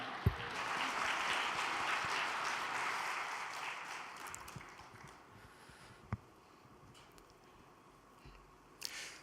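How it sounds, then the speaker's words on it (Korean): A hall audience at a religious gathering applauds to welcome a speaker to the podium. The clapping is soft and steady, fades gradually over several seconds, and ends with a few isolated claps. "박수로 맞아주시면 감사하겠습니다."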